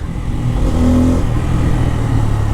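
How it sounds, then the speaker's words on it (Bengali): A Bajaj Pulsar N250 motorcycle engine runs loud and close, a steady low throbbing drone with a slight rise in revs midway, heard alone without talk. "এই বাইকের মধ্যে আরেকটা জিনিস ভালো ছিল সেটা হলো এটার সাউন্ড"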